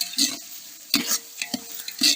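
Ginger garlic paste frying in a pan for vegetable biryani, stirred with a utensil in several brisk scraping strokes over a soft continuous sizzle, close and clear with no talk.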